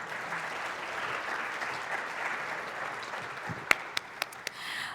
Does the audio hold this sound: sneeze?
no